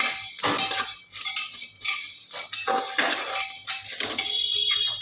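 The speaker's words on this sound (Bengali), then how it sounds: "তো দেখো বন্ধুরা আমি ঢাকনাটা খুলে দেখাচ্ছি" A metal pressure cooker lid is handled and opened after an attempt to dry-roast puffed rice from parboiled rice. Several light metallic clinks and clanks sound close by, scattered and uneven.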